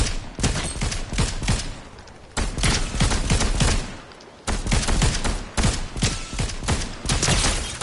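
Dense bursts of rapid gunfire in a video game during a duos match, loud and continuous in several long volleys separated by brief lulls.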